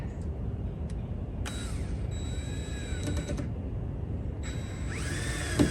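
A power driver whirs in short bursts as screws are driven into a scrap-wood corner lantern frame, with brief whines and creaks over a steady low background rumble.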